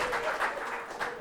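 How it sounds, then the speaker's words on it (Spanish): A short burst of applause for actors in a theatre, many hands clapping together in a brief, fairly distant wash of sound. "Un aplauso para los actores."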